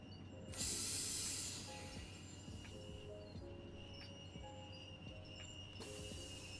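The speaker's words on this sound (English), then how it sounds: "I like the sounds of this train." Simulated train running in Train Sim World 6: a steady low rumble of rolling wheels with a loud burst of air hiss near the start, light clanks, and another hiss at the end, no talk.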